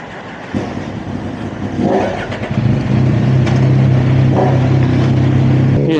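A big Yamaha motorcycle, an MT-10 or a Tracer 9 GT with a freshly cleaned throttle body, starts up loud and close at a highway exit stop, then revs in rising bursts and settles into a steady rumbling idle.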